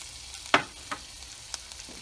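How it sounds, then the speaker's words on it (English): Ginger, garlic, chili flakes, chopped chili and sesame seeds sauté over medium heat in a pan, a soft low sizzle broken by a few sharp stirring scrapes and taps, fairly close and quiet. "We just want to saute those over medium heat for just a minute or so, not very long."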